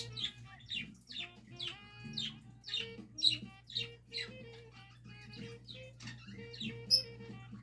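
Small birds chirp in quick, repeated bursts throughout, fairly close, over a low steady hum, with no voices.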